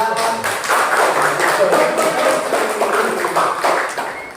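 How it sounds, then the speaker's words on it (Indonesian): Classroom applause for a student presentation group, many hands clapping in a dense, steady wash that holds at a fairly even loudness throughout, with no one speaking over it. "Sekali lagi tepuk tangan dong untuk kelompok 2."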